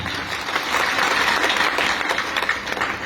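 A crowd applauds steadily, dense clapping filling the space at a loud, even level for a few seconds.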